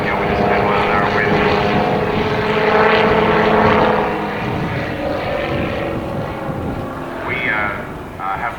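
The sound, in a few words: Helio Courier propeller airplane flying slowly overhead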